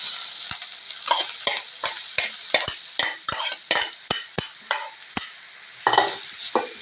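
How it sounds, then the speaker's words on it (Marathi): Grated fresh coconut roasting in ghee in a hot kadhai, stirred with a spoon in quick repeated scrapes and clinks over a soft, steady sizzle, close and clear with no talking. "त्याच्यातलं पाणी जोपर्यंत कमी होत नाही तोपर्यंत आपण नारळ चांगला तुपावर भाजून घ्यायचा।"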